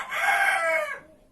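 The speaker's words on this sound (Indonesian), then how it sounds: "Ayam suaranya berisik ya" A rooster crows once, loud and close, a drawn-out call lasting about a second and trailing off, heard in a village setting alongside chickens.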